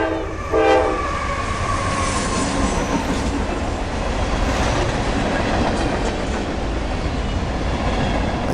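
Freight train rolling past with a loud, sustained rumble and clatter of wagons close by, a short horn blast sounding near the start before the continuous rail noise carries on.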